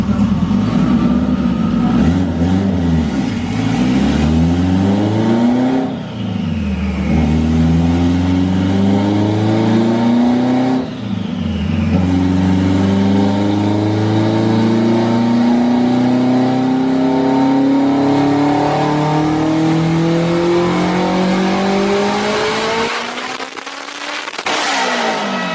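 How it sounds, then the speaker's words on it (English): A Mazdaspeed3 making close to 1000 wheel horsepower runs a hard 4th gear pull on its 37 psi boost map. The engine note climbs steadily and loudly for over twenty seconds, with brief dips at the shifts, then cuts off near the end. "we're gonna put it back on the 37 psi map and do a 4th gear pull"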